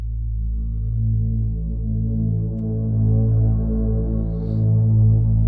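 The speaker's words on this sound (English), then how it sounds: "We'll just start it up again with that low pad." A low synth pad from an Ableton Live track drones on steadily, a thick sustained hum with gently swelling loudness and no voices.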